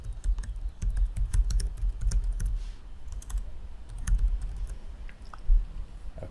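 Typing on a computer keyboard, with bursts of quick clattering keystrokes close by and short pauses, heard alone without talk.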